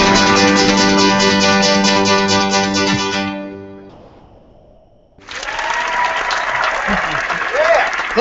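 An audience at a live music show breaks into loud, sustained clapping and cheering right after the band's final chord rings out and fades, the applause swelling and holding steady.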